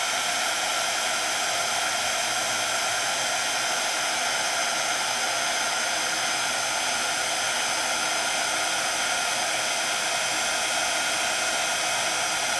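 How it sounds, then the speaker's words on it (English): An embossing heat tool heats embossing powder on a handmade Christmas card, giving a steady, loud, unbroken fan-and-air hiss that runs for the whole stretch with no talk. "I bring over my heat tool and I add some heat."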